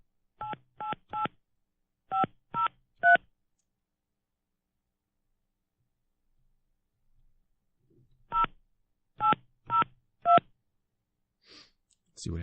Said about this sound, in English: I've never actually dialed somebody like this before